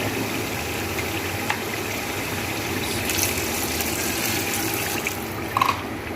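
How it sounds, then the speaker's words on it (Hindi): Water being poured into a pot of fried potatoes and spices for potato pulao, a steady pouring and splashing rush that runs close and fairly loud throughout, over a low background hum, with no talking. "अब हम इसमें पानी शामिल करेंगे।"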